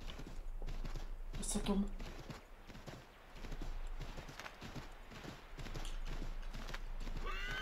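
Horse hooves clip-clop along with neighing and whinnying from a horse in the video game Assassin's Creed 3 Remastered, rhythmic steps continuing throughout while people talk over the game.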